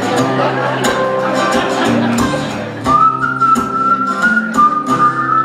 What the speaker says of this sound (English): we're all going to whistle to them and wish them the best